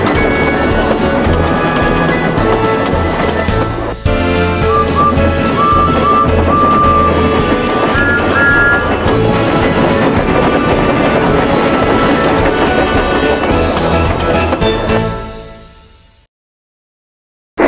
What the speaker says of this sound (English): They struggled valiantly up Gordon's hill, but the strain was beginning to tell